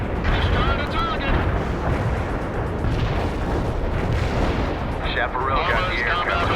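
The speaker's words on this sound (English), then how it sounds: "Heavy artillery." A heavy artillery barrage in the video game World in Conflict: Soviet Assault produces a loud, continuous rumble of overlapping blasts, with faint in-game voices mixed in.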